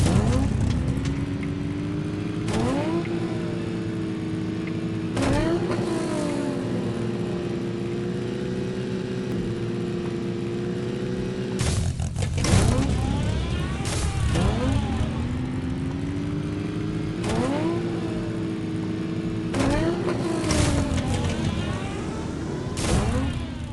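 A LEGO Technic 42109 Top Gear remote-controlled rally car drives around, its small electric motor whining and rising in repeated bursts of acceleration, with gaps and bumps between runs.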